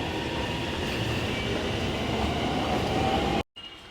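A train rolls along the rails with a steady, loud rumble and wheel noise that continues unbroken, then cuts off abruptly near the end.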